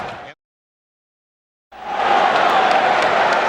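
A sellout crowd at Chicago Stadium during a 1993 NBA Finals game roars in a loud, dense wash of cheering and applause, cut off briefly by a full dropout before surging back steadily.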